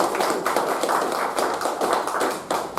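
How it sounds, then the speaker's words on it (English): Sustained applause from a Toastmasters meeting audience, dense continuous clapping with no pauses, close and fairly loud throughout. "I would like everyone to give him a thunderous applause to Toastmaster Raghunath"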